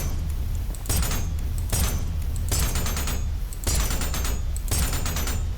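Gunfire in the fast shooter ULTRAKILL rattles out in repeated bright bursts roughly every second, with metallic pinging as bullets glance off armored enemies over a steady low background rumble; no one talks.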